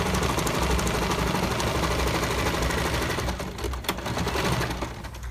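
A sewing machine topstitches a seam in a steady, rapid mechanical chatter, close and loud, with the needle's rhythm faltering and pausing briefly before resuming.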